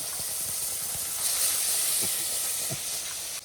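Cumin, ginger, garlic, tomato and green and red chillies sizzle in oil as a steady, fairly quiet hiss, with a few soft clicks and taps of utensils underneath.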